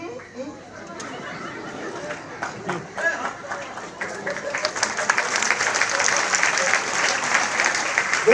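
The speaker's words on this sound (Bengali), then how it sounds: "সবাই কিন্তু হাততালি বাজালো না কেন" An audience at a Modicare business seminar claps; the applause starts thin and swells into dense, sustained clapping in the second half while a voice talks over it.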